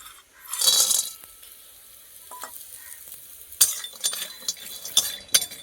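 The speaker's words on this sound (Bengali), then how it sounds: "কড়া বসিয়ে দিয়েছি, তাতে সর্ষের তেল দিয়ে এই বড়িগুলো ভেজে নেব" Lentil bori frying in mustard oil in a wok, a close hiss of sizzling oil with a burst early on, followed by scattered clinks and scrapes of stirring, without speech.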